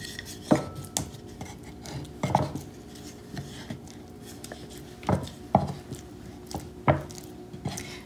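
Freshly churned butter turned out of a bowl and shaped on a cutting board, with scattered soft squishy pats and light knocks of a utensil against board and bowl, close and fairly quiet.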